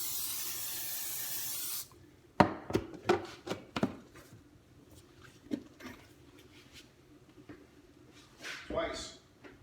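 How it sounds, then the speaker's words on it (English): Oil sprayed from a can over milk bread dough before proofing, a short steady hiss near the start, followed by clatter and light handling sounds. "I'm going to spray this milk bread, saran wrap it, and proof it again."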